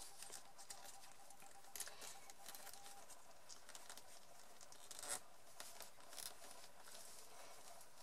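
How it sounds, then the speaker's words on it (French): Paper circles crumpled by hand for a romantic shopping bag craft, giving a quiet, continuous crackling patter with a few sharper crinkles, close and soft, with no talking. "je vais froisser mon papier, c'est-à-dire que je vais relever mes cercles et je vais vraiment les froisser"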